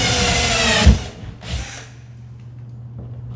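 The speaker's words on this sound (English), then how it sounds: "we're going to pre-drill the holes a little bit" A power drill pre-drilling holes runs loud and steady, then cuts out abruptly; a couple of short mechanical clunks follow before the motor hum fades to quiet.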